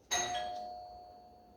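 A doorbell rings once with a bright chime that strikes sharply and then rings on, slowly fading, with a faint background hiss and no talking.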